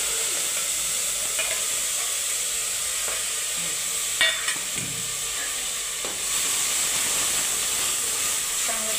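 Ground spice paste, with mustard seeds, cumin and curry leaves, fries steadily in hot oil for an udad dal amti. The soft, constant sizzle and hiss is broken by a few clinks and stirring scrapes, and no one talks.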